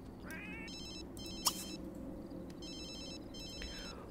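An in-game telephone rings in the life simulation video game The Sims 3, repeated electronic bell trills in short bursts at moderate volume over soft background ambience, with a brief chime-like blip partway through.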